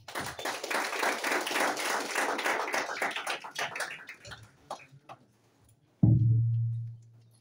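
A crowd claps steadily for several seconds, the applause thinning out to scattered claps, followed by a sudden low thump and hum.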